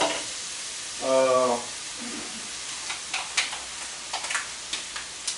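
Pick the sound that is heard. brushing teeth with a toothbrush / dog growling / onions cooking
onions cooking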